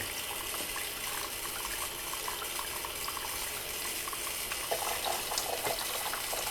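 Water running steadily from a tile wet saw set up in a garage, a continuous splashing hiss with no talk.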